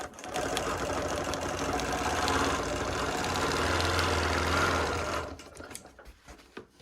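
A sewing machine runs steadily for about five seconds, quilting a quilt guided by a ruler, its motor hum and rapid needle stitching continuous and close, then stops and leaves a few scattered soft handling clicks.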